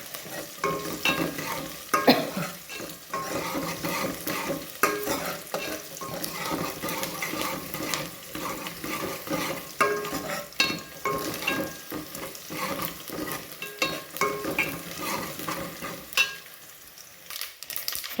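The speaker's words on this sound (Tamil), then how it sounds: "கடுகு, கருவேப்பிலை, வெங்காயம், பூண்டு, காஞ்ச மிளகாய் போட்டு நல்லா இந்த மாதிரி நல்லா வதக்கி விட்டுக்கலாம்" Mustard seeds, curry leaves, onion, garlic and dried chilies being sautéed in a pan for a greens kuzhambu, with steady sizzling and repeated stirring scrapes running throughout, close and fairly loud, no voices.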